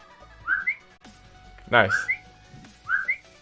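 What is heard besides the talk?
whistle sound effect for a game-jam project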